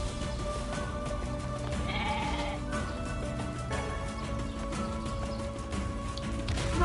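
Goats bleat repeatedly over a dense, steady game soundtrack in NieR Replicant, several wavering calls rising above music and ambient noise throughout.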